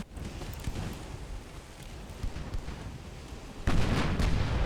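Heavy 12-inch naval guns fire in a warship battle in Ultimate Admiral Dreadnoughts, a dense rumbling barrage of booms with a stronger blast near the end, no speech.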